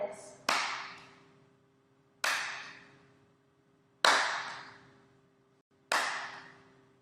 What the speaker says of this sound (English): When the ball is in the middle, you're going to clap your hands together like this.